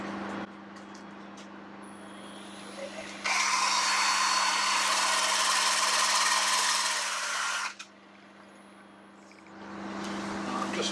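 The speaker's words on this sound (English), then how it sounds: "time to defuzz using one of these abrasive Silverline wheels" A drill spins a Silverline abrasive wheel against a turned wooden wall plaque, making one steady, loud whirring grind that lasts several seconds, with lower motor hum before and after.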